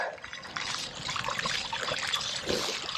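Bicycle tyres riding through deep water on the road, a steady hissing splash and spray of water that carries on throughout without a break.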